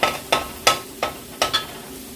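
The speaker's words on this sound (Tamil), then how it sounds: "இப்போ இதை நல்லா மிக்ஸ் பண்ணி விடுவேன்" A utensil scrapes and knocks in a pan while stirring black kavuni rice noodles, six short sharp strokes at a steady rhythm, close and fairly quiet with no talking.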